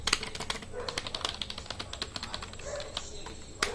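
Quick, light keystrokes on an HP 350 wireless keyboard tap out a steady, close-up clatter of soft clicks in a quiet room.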